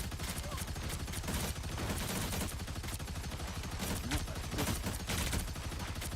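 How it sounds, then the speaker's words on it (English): Sustained gunfire in the hero shooter Marvel Rivals, continuous rapid shots and bursts layered over busy game noise, steady and moderately loud throughout. "Pump these bullets out that way as best I can"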